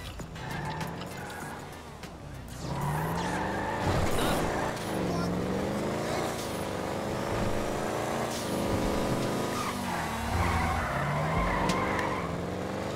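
A car driving and skidding in Grand Theft Auto 5, with a steady revving engine, tire squeals and shifting pitch as it accelerates and turns, loud and continuous.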